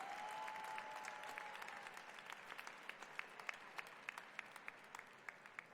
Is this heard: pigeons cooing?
no